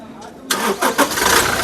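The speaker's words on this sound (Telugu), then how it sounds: "సింగిల్ సెల్ఫ్లో కార్ స్టార్ట్ అవుతుంది ఎటువంటి స్టార్టింగ్ ట్రబుల్ అయితే లేదు" After a brief crank, the 2.8-litre diesel engine of a 2016/17 Toyota Innova Crysta catches and fires up, settling into a loud, rough idle right up close.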